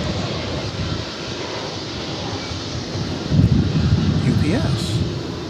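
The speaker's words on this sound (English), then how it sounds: "And landing right now is another cargo aircraft" A UPS Boeing 767 cargo jet touches down at DFW Airport, a broad distant rumble under steady wind noise that swells slightly toward the end.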